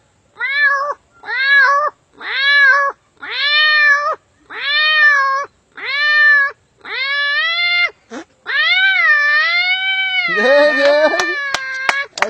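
A man imitates two cats fighting with his voice. A series of rhythmic, wavering meows builds into a long, fierce yowling caterwaul that turns harsh and strained at the end. The sound is close, loud and carries no other talk.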